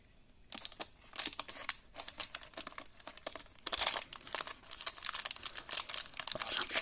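A scalpel cutting through tape on a toy box, then the tape being peeled off, heard as a close run of crackly crinkling, scraping and tearing bursts with short pauses.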